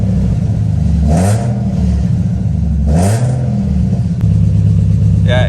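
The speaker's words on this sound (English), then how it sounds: "it's not misfiring when I rev it" A 1990-96 Nissan 300ZX engine, suspected of misfiring, idles loudly up close and is revved twice, each rise and fall of pitch clear over the steady rumble, with a faint voice underneath.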